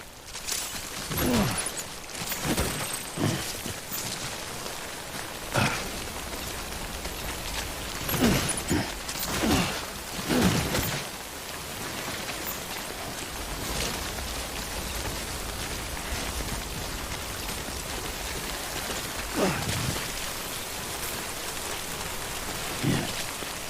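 Timefall rain in Death Stranding pours steadily in a constant hiss, broken by louder spattering bursts of drops striking nearby surfaces at irregular intervals.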